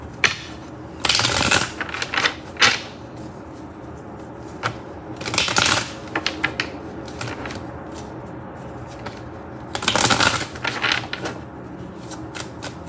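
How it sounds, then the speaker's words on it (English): Tarot cards shuffled by hand in a few separate bursts of crisp riffling with quiet pauses between them, close up and with no voices. "So let me pull some cards here."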